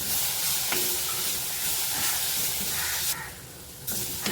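Sliced onion frying in a pan with a spoonful of oil and a pinch of salt, a steady close sizzle and hiss with occasional stirring, briefly changing tone near the end.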